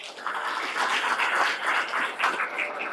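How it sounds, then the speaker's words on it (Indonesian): A seminar audience at a leadership integrity training workshop claps steadily and fairly loudly for about three seconds, a dense, even wash of applause with no voices over it. "Beri aplaus buat guru-guru saya."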